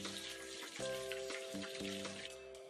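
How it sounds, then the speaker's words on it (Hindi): Chicken shashlik pieces fry in hot oil with a steady fine crackling sizzle, partly masked by louder tonal background music. "और इसी तरह हम सारी चिकन शाशलिक को फ्राई कर लेंगे।"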